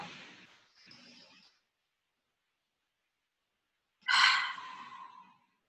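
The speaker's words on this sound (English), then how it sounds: "On your next breath, powerful inhale for a powerful exhale." Powerful yoga breaths: an audible breathy inhale in two parts, a pause of silence, then a strong forceful exhale like a heavy sigh, close and clear.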